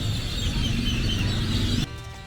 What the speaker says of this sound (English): just listen to the sounds of those birds